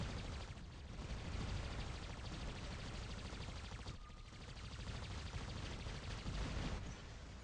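Continuous heavy weapon fire from combat robots in the game War Robots, a dense unbroken roar of shots and blasts throughout with no talk over it.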